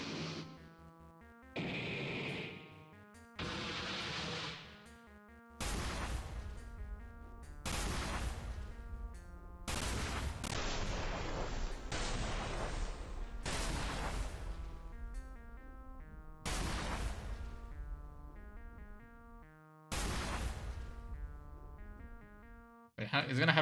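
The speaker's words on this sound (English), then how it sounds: "They have something like explosion or something like that." Explosion sound effects from an RPG Maker MZ game go off over and over, loud distorted bursts separated by brief gaps, with a voice talking faintly between some of them.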